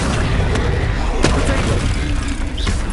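A magical blast booms in the Hogwarts Legacy video game, a heavy explosive rumble over dense game noise with a few sharp crackles, loud and close.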